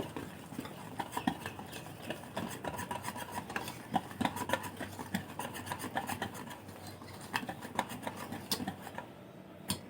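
Gobindobhog rice and semolina being mixed together in a bowl, a soft continuous gritty rubbing and scraping with light spoon taps, close but quiet, no talking.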